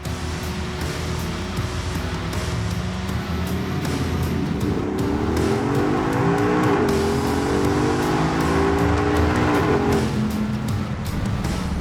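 A restored 1972 Ford Bronco in China Gray drives along a road, its engine droning loudly from inside the cabin over steady tire and road noise, the pitch rising and falling with throttle changes midway through.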